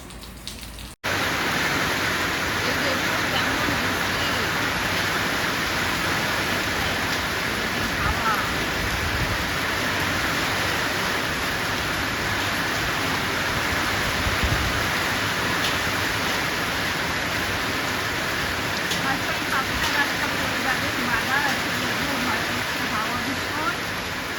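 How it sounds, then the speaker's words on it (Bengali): Steady rain falls with wind, a dense, even rushing hiss that holds at the same level after a brief quieter start. "বৃষ্টির সঙ্গে আজকে হাওয়াটাও ছেড়েছে"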